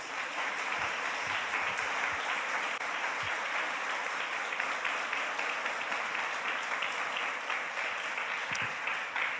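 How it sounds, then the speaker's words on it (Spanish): A church congregation applauds for the Lord, a dense, steady wash of many hands clapping that fills the room without a break, fairly loud and with no talk over it. "Denle un fuerte aplauso al Señor."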